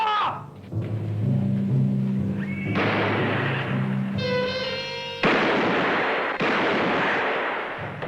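In an old Western television drama, a single gunshot fired at a man's feet lands among booming, thudding blasts and dramatic orchestral music, loud and close.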